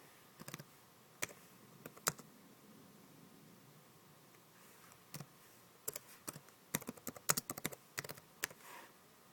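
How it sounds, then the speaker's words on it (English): Keystrokes on a computer keyboard in scattered bursts, with sharp clicks separated by short pauses, close and fairly quiet against a low background hiss, and no voices. "you would just backspace it and type whatever you wanted in there"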